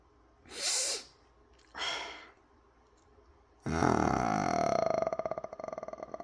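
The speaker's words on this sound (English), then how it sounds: "I gotta clear my throat" Harsh breathy throat noises, two short rasping bursts and then a long, gravelly guttural rumble that trails off, close to the mic.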